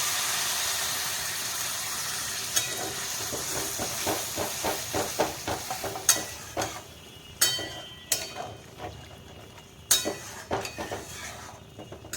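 Water poured into hot fried spice paste for a rohu fish and mixed vegetable curry, giving a loud steady hiss and sizzle that pops and crackles in bursts, then trails off into sharper intermittent spits.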